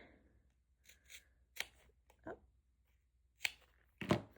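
Scissors snip through satin headband ribbon in a quiet room: several short crisp cuts spaced out over a few seconds, close and distinct, the last two louder.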